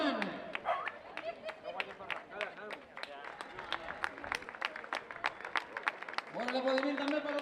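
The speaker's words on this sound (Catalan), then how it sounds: "Bon aplaudiment també per el dorsal 542, el Xavi Sánchez Camacho." Spectators clap in scattered sharp bursts for a finisher at the Catalan trail running championship finish line, with a crowd murmuring and an announcer speaking over it.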